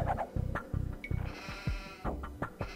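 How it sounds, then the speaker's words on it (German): Sheep bleating in the strategy game Age of Empires II, several short nasal bleats in quick succession over a busy layer of game sound effects, moderately loud with no talking. "Nervende Schafe."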